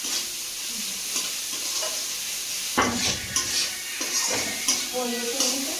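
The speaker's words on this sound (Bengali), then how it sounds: "অত মাংস রান্না করছি।" Meat sizzles in a little oil in a wok as a spatula scrapes and stirs it in repeated strokes, close and loud, with faint voices in the background.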